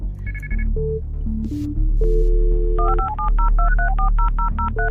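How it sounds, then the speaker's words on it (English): Telephone sounds from a played recording: a run of touch-tone dialing beeps followed by a rapid electronic ringing warble, loud and close with no talk. "that's your phone"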